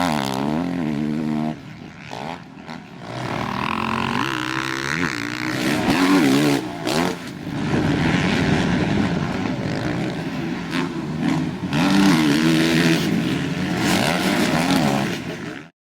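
A Suzuki RM-Z450 dirt bike with reworked race suspension being ridden, its engine droning loud and close, rising and falling in pitch with throttle changes and brief drops between revs.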